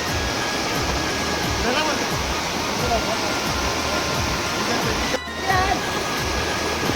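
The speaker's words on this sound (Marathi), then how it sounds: "पाण्याचा लोड बघा किती आहे" Rushing river water pours hard through a set fishing net, a constant loud broadband roar with a brief dip near the end as someone speaks over it.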